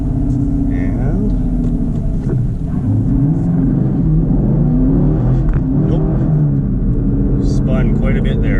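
A Camaro SS 1LE launches from a stop with wheelspin, its engine rumbling loud and close as the revs rise and waver, heard from inside the car with a voice talking over it.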